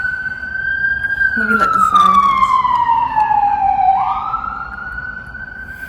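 An emergency vehicle siren passes outside, its long wailing tone sliding steadily downward as it goes by, then rising again, while a person talks over it.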